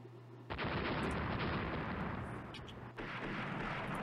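Naval guns firing in the warship game Rule the Waves: a sudden heavy booming salvo cuts in, rolls on as a dense rumbling roar, and a second blast lands near the end, loud with no talking.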